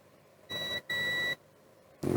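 A multimeter gives two sharp continuity beeps, one short and one longer, while probing a damaged trace on a relay board. The beeps ring close and clear against a quiet background.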